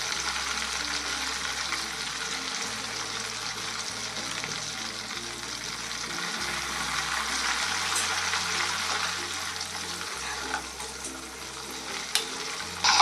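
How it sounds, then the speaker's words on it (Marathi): Homemade ghee boiling in a hot kadhai as cold water is sprinkled in, a steady crackling sizzle with a low continuous hum underneath and a few faint clinks near the end. "थंड पाणी शिंपडल्यानंतर जेव्हा तळतळ असा आवाज येतो"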